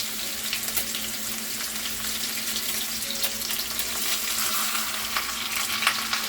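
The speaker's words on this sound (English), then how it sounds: "Put a little oil in there to get our ribs ready to sear." Pork ribs searing in an oiled skillet, a dense, continuous sizzle and crackle of frying close up, steady throughout with scattered sharper pops.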